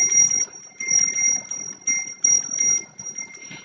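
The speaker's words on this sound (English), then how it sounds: "sometimes an angel's bell will help call them in" A small angel's bell rings with a clear, sustained high tone, struck in several repeated shakes that overlap and linger, close and fairly loud.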